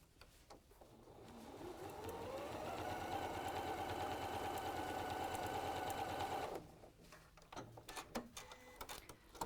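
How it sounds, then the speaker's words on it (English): A sewing machine stitches hook and loop tape, starting up, running in a fast steady mechanical whir for several seconds, then stopping abruptly, leaving faint handling clicks and rustles afterward. "just be careful you don't sew over the end of your hook and loop now"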